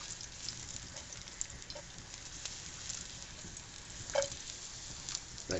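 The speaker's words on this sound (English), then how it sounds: "I'm going to saute the garlic cloves until they're brown and soft." Garlic cloves sauteing in a little oil give a faint, steady sizzle with small crackles and pops, quiet and continuous throughout.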